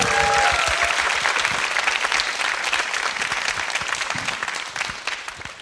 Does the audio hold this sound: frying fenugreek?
no